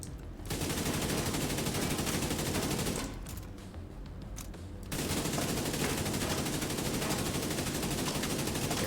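Long-range gunfire from a Kingbreaker rifle in the shooter The Division 2, sustained loud bursts of repeated shots that stop briefly midway and then resume, with no talking.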